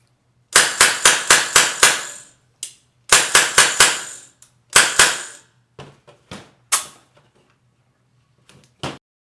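Compressed-air Tippmann M4 paintball marker with a heavy bolt mod firing at close range: sharp, snappy shots in rapid strings of five or six, then a few slower single shots and clicks with silence between.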